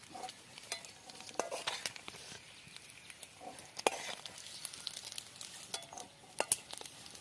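Eggs fry in hot oil in a pan, a soft, continuous sizzle broken by scattered crackles and pops plus occasional scraping of a utensil against the pan, fairly quiet and close, with no talking.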